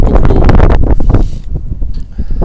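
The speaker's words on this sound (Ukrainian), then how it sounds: "вітер задуває також" Gusty wind roars and buffets the microphone with loud low rumbling on a frozen lake while ice fishing, easing slightly partway through before picking up again.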